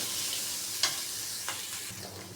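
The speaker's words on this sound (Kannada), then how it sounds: "ಇಲ್ಲಿ 1 ಸ್ಪೂನಷ್ಟು ಎಣ್ಣೆ ಹಾಕ್ಬಿಟ್ಟು ಫ್ರೈ ಮಾಡ್ಕೊಳ್ತಾ ಇದ್ದೀನಿ" Horse gram frying in a spoonful of oil in a pan, a steady soft sizzle with a couple of brief stirring scrapes, close and fairly quiet, no voices.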